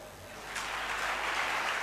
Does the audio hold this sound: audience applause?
yes